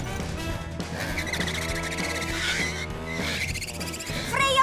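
A cartoon motorcycle brakes hard, its tires skidding and squealing in a long continuous screech over a revving engine, loud and close, with music and effects mixed in.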